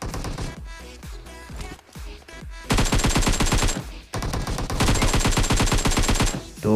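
Bursts of rapid automatic gunfire in a PUBG battle royale match ring out in dense, loud volleys, with a short pause near the middle before the firing resumes even harder.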